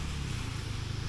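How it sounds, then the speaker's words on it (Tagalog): Steady low rushing of sea waves at sunset with wind noise against the microphone, continuous and close. "Tapos yung tunog ng dagat."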